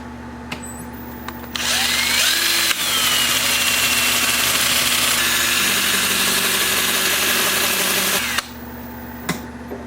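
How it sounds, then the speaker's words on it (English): A steady, loud whirring grind of sanding on a spinning lathe, starting abruptly and running for several seconds before cutting off. "time for some sanding and finishing the same way I did here."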